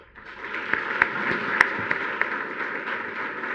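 An audience applauds President Luis Guillermo Solis of Costa Rica: dense, even clapping swells in and holds steady, with a few sharper claps standing out.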